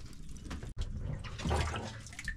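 Water pours into a cooking pot over an outdoor meal, a splashing, gushing flow that runs steadily with one brief break and swells louder near the middle.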